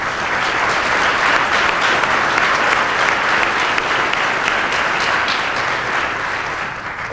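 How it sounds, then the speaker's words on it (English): Sustained, steady applause from an audience at an economic development brand launch event in Oshkosh, dense and even throughout before tapering slightly at the end. "so we can give you a round of applause"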